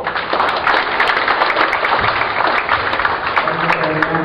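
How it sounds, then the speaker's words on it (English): Dense, steady applause from a large audience, sustained clapping throughout at even loudness with no gaps. "let us give a big round of applause"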